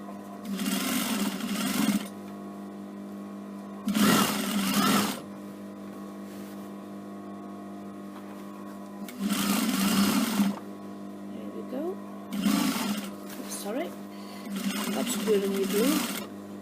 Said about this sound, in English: Put your handles down flat and stitch across those handles.